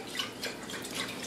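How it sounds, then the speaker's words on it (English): Rinse water poured off a batch of freshly swished sprouts, giving a steady close splashing and dribbling wash with brighter spurts, alone with no talk. "empty the water out"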